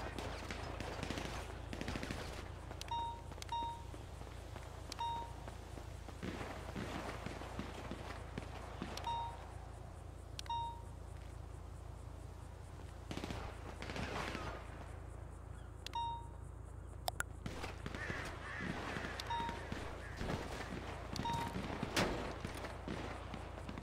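Video game gunfire striking the player: scattered sharp shots and metallic impact dings repeat over a steady low background rumble, fairly faint and spread throughout.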